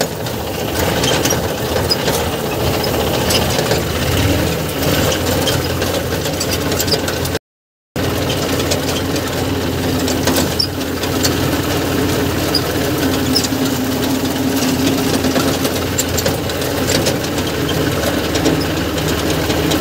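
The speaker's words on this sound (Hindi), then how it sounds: "इसलिए एक बार फिर से अपन यहाँ पे ट्रैक्टर घुमा ले रहे हैं।" A tractor turning in a field during November cultivation runs with a steady, rattling mid-pitched engine drone and faint mechanical clatter, heard close and continuous apart from one brief dropout partway through.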